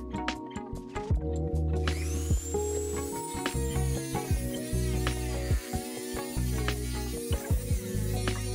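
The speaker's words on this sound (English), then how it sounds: "Use a cutting machine to remove the remaining case." An electric cutting machine slices through the plastic case of a UGREEN 65W 3-in-1 GaN charger filled with potting compound, giving a steady close-up whirring grind with a rising whine and uneven bursts of cutting noise throughout.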